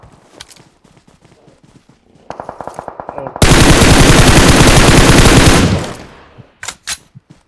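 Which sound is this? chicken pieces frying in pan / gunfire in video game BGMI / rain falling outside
gunfire in video game BGMI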